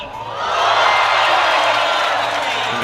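Spectators at a women's bouldering semi-final in Salt Lake City swell into loud cheering and whooping, building quickly after a brief quieter start and holding as a sustained, energetic roar.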